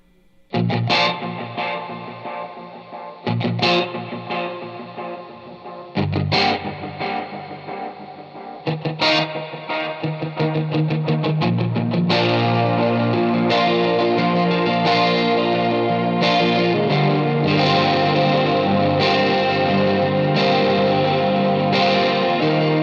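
An electric guitar plays chords thickened by a wavering detune chorus shimmer from an Electro-Harmonix Pitch Fork, with overdrive grit, sustaining into a dense, echoing wash of repeating delays.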